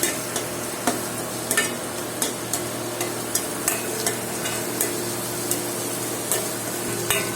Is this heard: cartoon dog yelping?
no